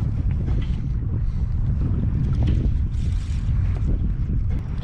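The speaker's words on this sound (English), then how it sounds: "Daggum boat waves when they come by" Boat wake waves slap and churn around a small bass-fishing boat as it rocks, with a constant low rumble of water and strong wind noise on the microphone and no speech.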